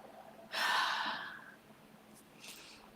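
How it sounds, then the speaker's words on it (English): A person draws one audible breath, a soft, close airy inhale that swells and fades, followed by a fainter second breath in a quiet room. "I just took a breath"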